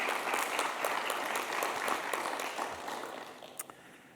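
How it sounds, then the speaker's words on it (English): Applause at a university faculty convocation for the family and friends of honorees: a broad, even patter of many hands, moderately distant and soft, gradually thinning and tapering off toward the end. "have a round of applause for family and friends of honorees here today"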